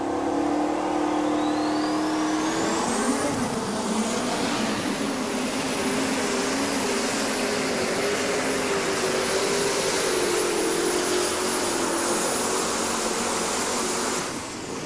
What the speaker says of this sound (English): Next up, the other V8 inside of the class, Jordan Lustig, the 6-time champ